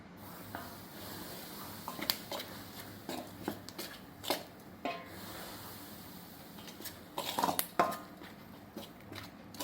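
A spoon works hot organic oil through sweet dough for Marathi god kapnya, giving soft scrapes and clinks against a bowl with a few sharper metallic taps, close by and fairly quiet, with no talking.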